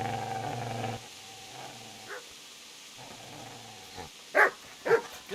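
A dog in Kingdom Come: Deliverance growls low and steady, then after a pause lets out a few short, sharp barks in quick succession, fairly close but moderate in level.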